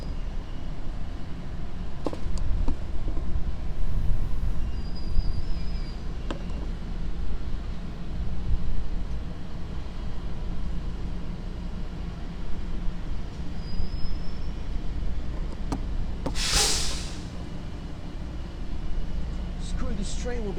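An LIRR M3 electric multiple-unit commuter train rumbles along the tracks at Ronkonkoma, a steady low roll with clicks and a sharp wheel squeal near the end, while someone talks over it.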